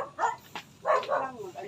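A dog gives a few short, close barks in quick succession, closely mixed with nearby voices.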